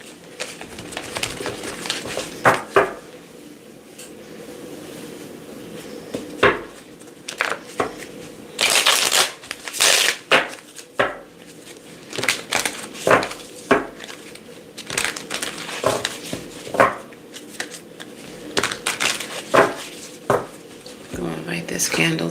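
Tarot cards are shuffled by hand in repeated bursts of riffling and slapping, close and fairly soft, with brief pauses between rounds and a quiet room behind.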